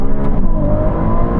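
Several Ferrari cars, V12, V8 and V6, accelerate hard in a rolling drag race in second gear from 30 mph, a loud, dense engine roar with rising revs that holds steady throughout.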